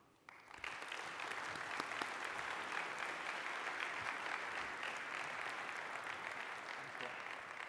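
An audience at a public service lecture bursts into sustained, steady applause welcoming the lecturer Dr. Bobby Braun, a dense wash of clapping that swells quickly and holds evenly throughout.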